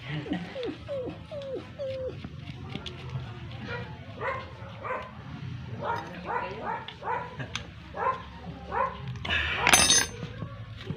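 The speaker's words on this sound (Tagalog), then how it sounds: "hanap yung aso. Mayroong ikang tuta rito." A puppy barks and whimpers nearby in a series of short yips and whines, starting with rising whimpers and moving into repeated bursts of barking, with a louder burst near the end.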